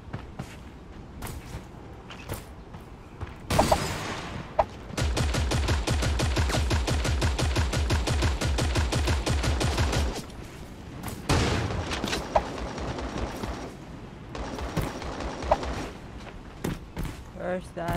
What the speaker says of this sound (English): Gunshot here.